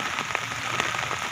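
Steady rain hisses down outdoors near the sea and a river at high tide, a continuous wash of noise with scattered light drop taps.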